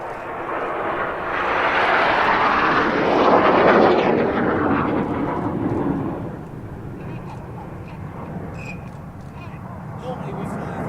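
A formation of jets swinging out in line astern sweeps past with a loud, rising roar that peaks and then fades to a distant rumble. A voice talks over the passing noise.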